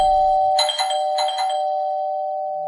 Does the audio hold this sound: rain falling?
no